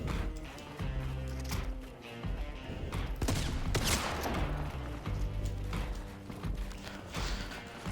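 Gunfire in a Fortnite-style battle royale video game, heard as loud, rapid bursts of shots and clattering impacts over busy game sound, repeating throughout with no voice.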